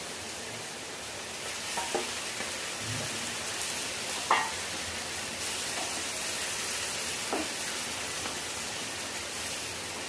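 Marinated chicken with onions frying in a pan gives a soft, even sizzle, with a few scattered stirring scrapes and knocks; the sound is fairly faint and has no voices.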